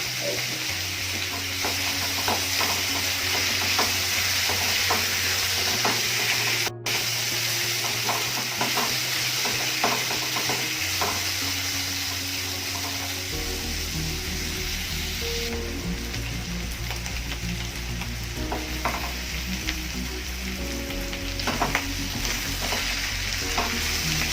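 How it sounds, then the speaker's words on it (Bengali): Potato pieces fry in a pan with a little salt and turmeric: a continuous, loud crackling sizzle with occasional stirring clatters and shifting bubbling, with no voices over it. "আলুগুলো সামান্য লবণ, সামান্য হলুদ দিয়ে ভেজে নেব।"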